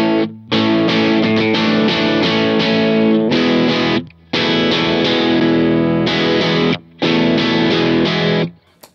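An electric guitar played through a rig without the Exotic Effects EP Booster pedal, ringing out loud, driven chords that sustain and then cut off in a few phrases with short breaks, alone and with no speech.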